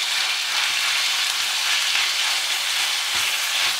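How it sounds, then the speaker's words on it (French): Minced beef frying in hot oil hisses loudly and steadily up close, with a few soft stirring knocks. "C'est parti, mon huile est bien chaude, je mets ma viande."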